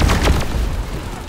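A support rocket explodes in Deep Rock Galactic during an Elite Deep Dive: a loud, close boom with a sharp burst and a few quick follow-up cracks, fading into a rumbling tail.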